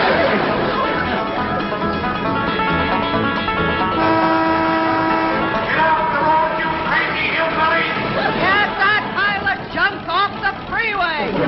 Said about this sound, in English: They's downright mean, a honking and a yelling like that.